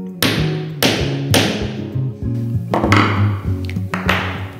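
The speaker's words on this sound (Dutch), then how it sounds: "Het is belangrijk dat je het perfect loodrecht houdt om de rivetten recht in te kloppen." Rivets are hammered into faux leather for a handmade craft cover: a series of sharp, loud hammer blows in an irregular rhythm, each ringing briefly, close and alone without talk.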